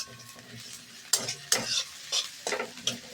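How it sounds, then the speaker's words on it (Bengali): Onion frying lightly in a pan while it is stirred, a bright crackling sizzle broken by several quick, loud scraping strokes at close range, with no voices. "এই যে পেঁয়াজটা একটু ভাজা ভাজা মতো হয়ে যাচ্ছে।"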